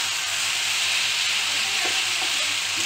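Maat greens frying in a pan make a dense, steady sizzling hiss up close, with faint soft stirring touches now and then and no voices.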